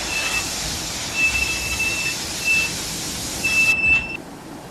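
A steam engine halted at a railway signal box, in a Railway Series remake, sounds several short, high whistle blasts over a continuous loud hiss of steam. The hiss cuts off sharply near the end.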